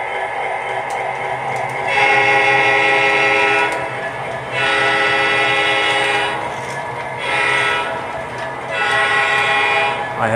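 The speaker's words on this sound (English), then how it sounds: "we're going to get this train a-rolling" An O scale MTH Premier Burlington Northern SD60M model locomotive rolling along track, with loud repeated horn blasts in several long bursts over a steady running rumble.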